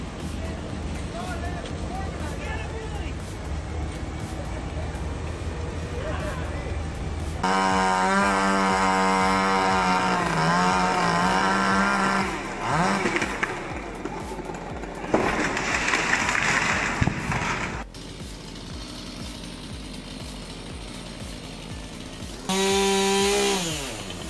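A chainsaw cutting a tree, its engine droning in long sustained bursts that rise and fall in pitch, with abrupt cuts between segments and a loud whining stretch near the end.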